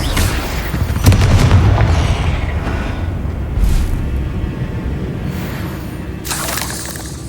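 Confringo spell explosions in the video game Hogwarts Legacy: a loud boom near the start, another burst a few seconds later, and a fainter blast at the end over a rumbling battle backdrop.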